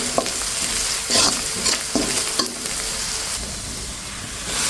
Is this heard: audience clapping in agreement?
no